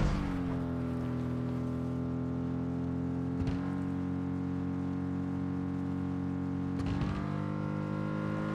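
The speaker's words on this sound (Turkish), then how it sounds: "Bu arabanın eksileri var ya, çok hızlı gitmiyor" A car engine in the battle-royale game PUBG drones steadily and loudly throughout, with brief shifts in pitch around a couple of gear changes, and no voices over it.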